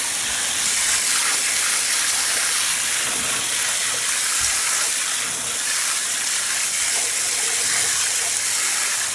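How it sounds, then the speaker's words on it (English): Water from a hose or tap rushes steadily into a tote, making a loud, continuous hissing gush that holds unbroken for the whole stretch, with no voices. "I'm going to fill this tote full of water"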